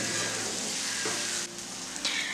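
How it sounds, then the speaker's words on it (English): Already-fried mushrooms hiss and sizzle in a hot pan as they are stirred with other heating ingredients, a steady close frying crackle with a couple of soft scraping stirs. "I add back the mushroom in it because we had already fried and kept it aside and mix it all"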